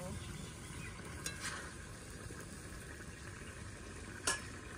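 Fish curry with bitter gourd and potato simmering in a pan, a faint steady sizzle with a couple of soft clinks of a stirring utensil against the pan.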